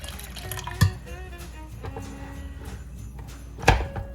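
Hot water poured over a small bowl of chana dal to soak it in a home kitchen, a soft steady trickle with two brief knocks from the bowl and pot, close by.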